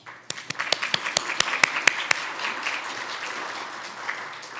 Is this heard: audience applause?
yes